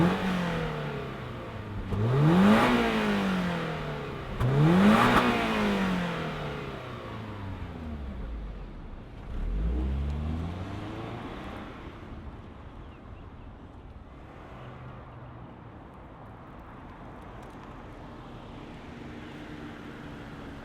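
A 2025 Toyota GR86 Premium sports car engine starts and revs: two sharp throttle blips rise and fall in quick succession, then a third lower rev, before settling into a steady idle that runs on quietly.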